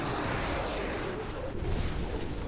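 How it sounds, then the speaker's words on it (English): Explosion in the video game Diablo 3 during a fight, a dense continuous roar of blasts and rumbling booms that stays loud throughout, with a brief surge near the end. "Not get caught in the explosion."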